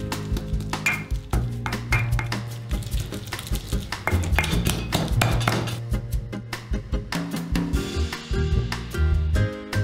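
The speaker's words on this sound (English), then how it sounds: "He crushes them into the basil." Italian pine nuts crushed into basil for pesto, with a steady run of hard knocks, taps and clinks from pounding and grinding, close and clear without talk.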